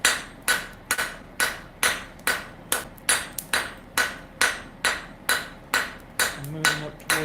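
A blacksmith hammers texture onto the tenon at the end of a hot bar, a steady rhythm of sharp ringing metal strikes close by, about two or three each second, with brief ringing decay after each blow.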